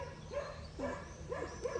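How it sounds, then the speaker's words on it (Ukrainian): A small dog barks outdoors, several short yaps spaced unevenly at moderate distance, with no talking over them. "А там собачка є гавкає?"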